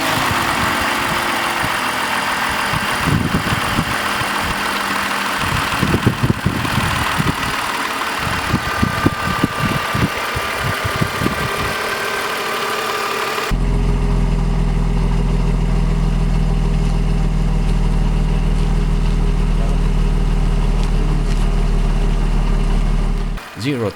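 A 2002 BMW 520i E39 with the M54 2.2-litre inline-six petrol engine idles. It is a steady, low, even drone that runs on alone through the second half, after a busier opening stretch with a voice talking.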